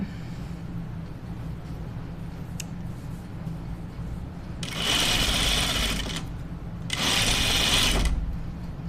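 A sewing machine stitching a dress runs in two close, loud whirring bursts of about a second and a half each, separated by a short pause, over quiet room noise.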